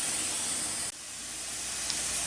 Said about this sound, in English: there's like a steam that's coming across